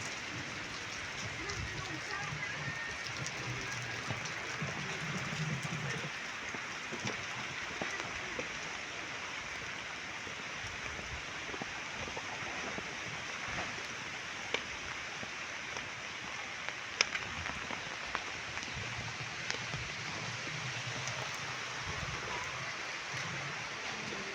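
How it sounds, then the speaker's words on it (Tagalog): Steady rain falls continuously with gusty wind noise, a dense wash of drops and rushing air, with occasional louder drips standing out. "Wala lang tayong video dun, guys, dahil maulan, mahangin"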